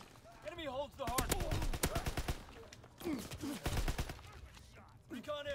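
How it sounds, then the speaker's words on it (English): Gunfire crackles in a World War 2 shooter on the London Docks map, with bursts of rapid shots mixed among in-game radio voice callouts and player speech throughout. "I'm getting shot from everywhere."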